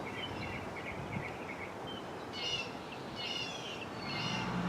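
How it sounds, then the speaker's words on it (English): Birds singing in a zone 9 spring garden in March, repeated faint chirps and short song phrases over a soft outdoor hiss, with a few louder bursts of twittering toward the end. "Listen to all them birds."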